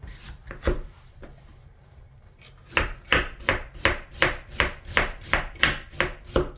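A knife cuts through firm radish on a cutting board, a few scattered chops and then a steady run of rhythmic slicing strokes.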